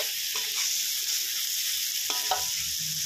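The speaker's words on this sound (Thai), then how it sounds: "ผัดไปเรื่อยๆนะครับให้ส่วนผสมมันเข้ากันนะครับ" Sweet pork stir-fried in a pan gives off a steady, loud sizzle, with a few spatula scrapes and stirring strokes on top and no talking.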